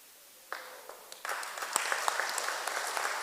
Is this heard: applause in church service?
yes